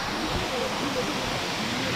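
Devi's Falls in Pokhara, Nepal, a waterfall heard as a steady, dense rush of water that fills the whole moment without a break, loud and even from start to finish.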